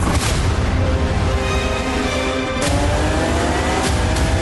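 A loud, continuous race-car engine roar from a racing video game trailer fills the whole stretch, with a sharp impact-like hit partway through.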